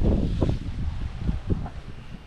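Gusty wind buffets the microphone outdoors by the sea, a steady low rumble with irregular stronger gusts throughout, loud and close.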